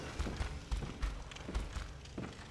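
Heavy enemy footsteps in the video game Bloodborne, a series of loud thudding steps roughly every half second, close and echoing over a dense, noisy background.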